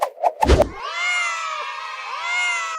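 A cartoon cat gives a long drawn-out meow with wavering pitch, loud and close, following a few sharp thumping hits at the start; no talking over it.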